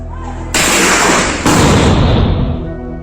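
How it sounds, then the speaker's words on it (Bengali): Two loud, close gunshots a second apart on a street in Savar, Bangladesh, on 5 August 2024, each a sharp blast followed by a long rolling echo that slowly fades. "আবার গুলি করছে, আবার গুলি করছে।"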